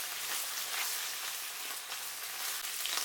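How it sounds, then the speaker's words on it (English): Ramen seasoning sauce being stirred in a hot pan with oil and bamboo shoots: a steady, faint, close crackling sizzle throughout, with soft stirring scrapes. "Add the seasoning sauce. Occasionally stir for 3 minutes."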